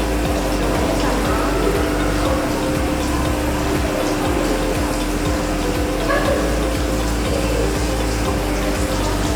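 Hands rinsed under a steady stream of running tap water, a continuous loud gush with a pump-like hum throughout.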